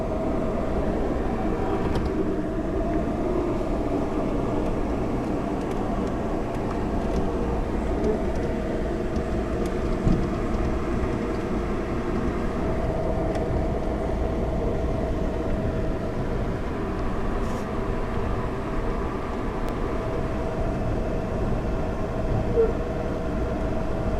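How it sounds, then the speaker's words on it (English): A distant freight train sitting in a queue, heard as a steady low rumble and drone with no clear onsets, constant in level throughout with no voices. "And there's another freight train in the distance."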